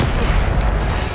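A Bombarda spell in Hogwarts Legacy explodes as a loud, dense, booming blast, a continuous roar of rumbling detonation filling the short moment.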